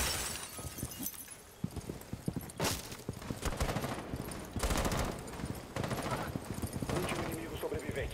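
Bursts of gunfire ring out in a Rainbow Six Siege match, sharp cracks and rapid volleys recurring throughout amid dense game noise while players talk over it.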